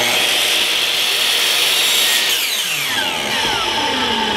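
A hand saw cuts a marked one-inch section from a part for an induction motor converted into a neodymium magnet alternator, giving steady loud rasping strokes throughout, with the pitch sweeping as the blade finishes the cut.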